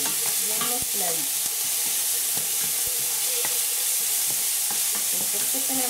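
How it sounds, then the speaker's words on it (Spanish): Onion and sweet chile sautéing in a pan, a steady close sizzle with repeated scraping stirs of a utensil against the pan throughout, no talking. "mezclamos bien para que se sofríe bien mezcladito."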